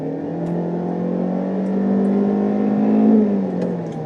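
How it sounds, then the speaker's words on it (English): A 2019 Kia Forte with a CVT accelerating: a steady, droning engine rev climbs slowly and evenly in pitch, then dips as if simulating a gear change, heard from inside the car with no talk. "when it finally does reach the top of the RPM range, it really does sound like it's simulating a gear"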